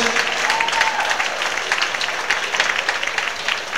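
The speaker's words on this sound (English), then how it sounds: "round of applause" A round of applause rises from the crowd at an Advanced Jack and Jill dance competition heat, continuous clapping at moderate loudness with a brief tonal voice or music trace early on.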